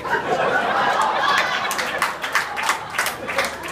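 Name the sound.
comedy audience clapping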